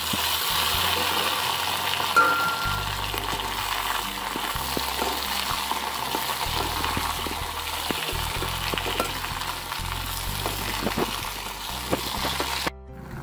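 Potato and eggplant vegetables hitting hot oil in a pan with fried onions, a loud steady sizzle with stirring scrapes running throughout, close and continuous until a brief cut near the end.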